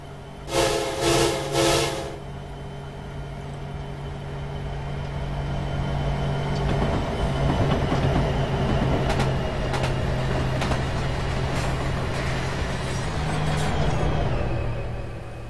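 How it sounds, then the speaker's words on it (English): An SD70ACe diesel locomotive in Train Simulator on the Soldier Summit route, opening with a loud horn blast, then a steady engine drone and rolling rail noise with intermittent squeals and clanks as it rounds a curve. "Train's going round a curve time."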